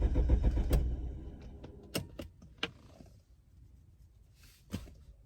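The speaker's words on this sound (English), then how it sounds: "Key ignition. Electric fuel pump, whatever's going on." Alfa Romeo 164 ignition and starting: keys jangle up close, then a low engine-like rumble fades into a quiet hum broken by a few sharp clicks and clunks, ending in a sudden rise.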